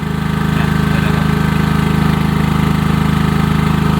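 A 9.37 kW power generator runs at a steady idle, its engine producing a loud, close, continuous pulsing chug with an even rhythmic throb and no talking.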